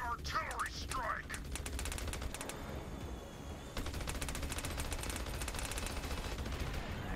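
Artillery strike in the video game Battleborn, rapid bursts of sharp gunfire and explosive cracks in clustered volleys with a short lull midway, and a voice speaking at the start.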